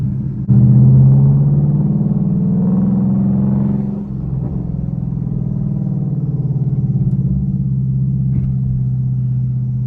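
A loud GT car's engine rumbles steadily while driving through a city at night, a deep close drone with a slight swell in revs partway through and no talking.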